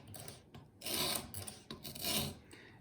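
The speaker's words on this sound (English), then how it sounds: "I can just have to work the stone down the face of the chisel" A whetstone rasps along the face of a preset-angle chisel in two long strokes, each a broad gritty scrape with quieter rubbing between, close and clear with no talk.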